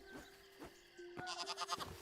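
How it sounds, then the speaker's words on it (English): Sheep in the video game Hytale bleat several times in short, close, fairly quiet calls spread across a couple of seconds. "Oh, you're a sheep."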